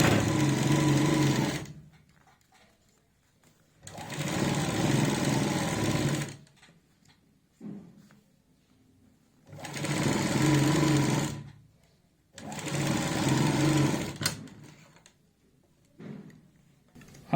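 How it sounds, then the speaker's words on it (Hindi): Sewing machine stitching the high-neck collar of a kurti: four steady, close runs of rapid mechanical whirring, each lasting two to three seconds, separated by quiet pauses with faint handling sounds. "ऐसे हम यहाँ पे सिलाई लगाएंगे"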